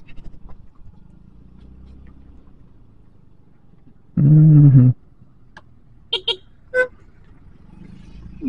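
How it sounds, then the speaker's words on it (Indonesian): A Daihatsu Tough car passes on a narrow, damaged road and gives a loud horn blast that lasts about a second. A few shorter toots follow over a quiet engine hum. "Jadi kita kalau ada mobil begini harus ke pinggir jalan."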